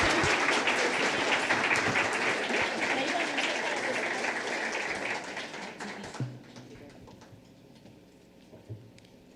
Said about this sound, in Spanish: Quiero suplicarles a ustedes un aplauso por la generosidad del tiempo y la atención del doctor Benito Nasif.